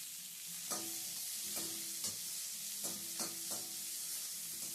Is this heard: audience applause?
no